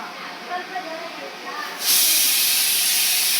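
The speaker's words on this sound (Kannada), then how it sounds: "ಫ್ರೈಗೆ ಒಗ್ಗರಣೆ ಮಾಡ್ತಾ ಇದೀನಿ" After some quiet talking, tempering spices for mutton fry hit hot oil and burst into a loud, sustained sizzling hiss that carries on to the end.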